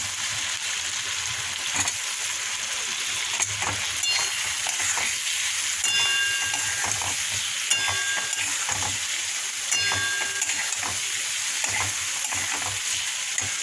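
Boiled potatoes and boiled eggs coated in salt, turmeric and chili powder frying in spiced oil in a wok, a steady close sizzle and crackle throughout with occasional scrapes of a spatula, no talking.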